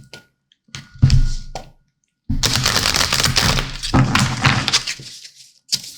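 A new deck of cards being shuffled by hand, with short snapping riffles followed by a longer rapid fluttering riffle, close and crisp in a quiet room.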